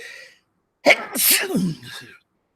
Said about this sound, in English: I'm so sorry about the sneeze.